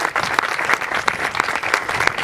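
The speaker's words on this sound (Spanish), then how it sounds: "un aplauso para nuestro intendente" Crowd applause for the mayor at a public address, a steady wash of many hands clapping with a few sharper individual claps standing out at regular intervals, loud and continuous throughout.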